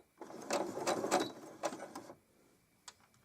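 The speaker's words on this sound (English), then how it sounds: "do a couple of stitches" Sewing machine stitching fabric in short runs: a close, steady mechanical whir with rapid ticking needle strokes for about two seconds, then stopping, followed by a faint click of the presser foot.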